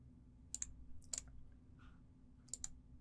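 Mouse clicks on a Server 2022 virtual machine: a few crisp, quiet clicks in small pairs over a low steady hum, no speech.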